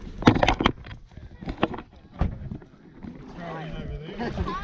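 A small boat carrying several people on a lake, with knocks and thumps against the hull, splashing water and a low motor-like hum building toward the end, while people talk and call out nearby.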